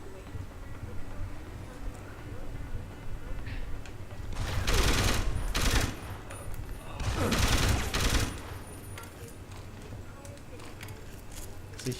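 Two short bursts of automatic gunfire in Deus Ex: Human Revolution Director's Cut, loud and close, each lasting under a second, over a low rumbling game background.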